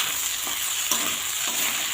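Rice and lentils for khichdi fry in a pan with salt and turmeric. A dense, even sizzle runs throughout, with soft stirring strokes and no talk.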